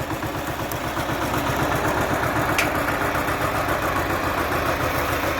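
A tractor engine idles close by with a steady, throbbing, low chug that pulses evenly and stays loud for the whole stretch, with no voices.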